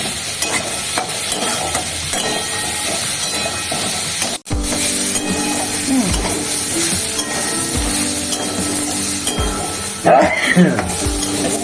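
Steady sizzling of pumpkin frying in a pan, with occasional stirring scrapes and clinks of a utensil against the pan.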